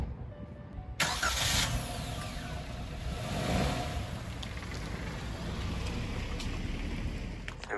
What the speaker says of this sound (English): So now we're going to spin the car around, take a look at the rear